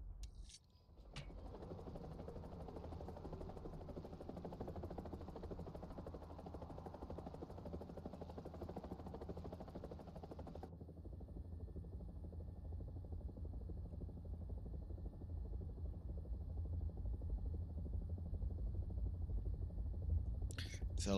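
Helicopter flying in the War Thunder video game, a steady low rotor and engine drone running throughout at moderate level, with a brief change in the upper tones midway.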